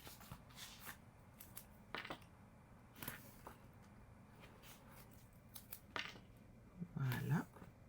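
Paper for a scrapbook album is cut with double-sided tape already laid on it, giving quiet, scattered snips and rustles, close but faint, with a slightly louder crinkling cut near the end.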